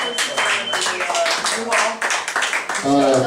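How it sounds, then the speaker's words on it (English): Clapping from an audience at an evening stage show, a loud burst of hands mixed with cheering voices and talk, fluctuating in intensity across the few seconds. "Give them a round of applause"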